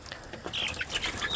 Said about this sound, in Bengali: দেখুন, আমার এইগুলা হচ্ছে ফার্মি মুরগি